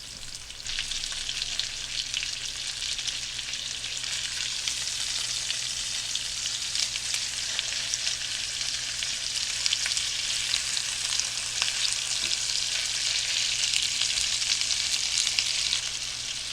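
Hamburger steak patties fry in a pan with a loud, continuous, even sizzle that holds steady throughout, close to the pan and without any voices.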